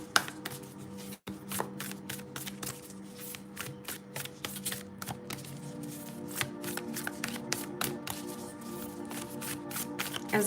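Tarot cards from a Goliath deck being shuffled close up, a steady run of quick riffling taps and flutters that continues without pause.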